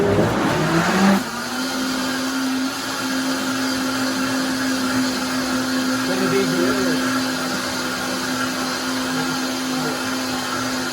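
Vitamix blender blending a smoothie with blueberries and beans, a sharp startup burst that settles into a loud, steady motor whine with a constant pitched hum, running close and continuously throughout.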